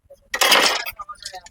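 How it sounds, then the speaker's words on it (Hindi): Plastic back cover snapped into place on a Brother DCP-T420W inkjet printer, a single loud clattering burst of plastic followed by a few softer clicks and handling knocks, close by with no talk. "अब हम पीछे वाले इस वाले कवर को लगा देते हैं"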